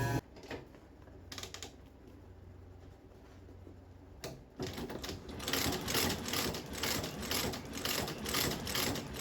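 A stitching machine sews a new sole onto an Allen Edmonds shoe in a resoling workshop. A few faint mechanical bursts come first, then a loud, rapid, rhythmic clatter runs steadily through the second half.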